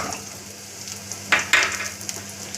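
Onions and drumstick leaves frying in a pan for a keerai poriyal, a steady soft sizzle with two sharper bursts of crackle and stirring partway through, no voices.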